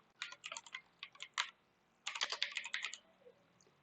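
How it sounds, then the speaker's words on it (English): Typing on a computer keyboard during an Android app-building workshop: two quiet, quick bursts of close key clicks separated by a short pause. "So we'll type hint and click enter"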